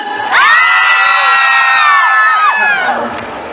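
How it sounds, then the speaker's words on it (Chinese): A large outdoor crowd at a Hakka temple festival concert in Zhongli, Taiwan screams and cheers loudly in one sustained burst lasting a few seconds. "我相信你们的尖叫声应该可以压过烟火的声音"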